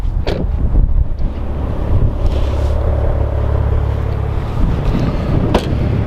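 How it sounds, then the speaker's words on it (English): A steady low exhaust rumble from an idling 2017 Maserati Ghibli S Q4 continues throughout, with some wind buffeting on the microphone and a couple of brief clicks. "The exhaust even sounds kind of nice just with it idling."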